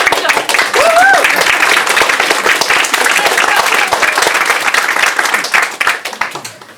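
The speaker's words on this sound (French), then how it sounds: "On peut l'applaudir, ouais, on peut l'applaudir." A theatre audience applauds the illusionist Warren, loud dense clapping with a whoop or cheer early on, sustained and then thinning toward the end.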